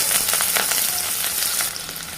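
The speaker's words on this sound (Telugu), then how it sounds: "ఇప్పుడు ఆనియన్, కరివేపాకు వేస్తాము." Onion and curry leaves hit hot oil already crackling with mustard and cumin seeds, giving a loud, continuous sizzle and spatter up close with no talking.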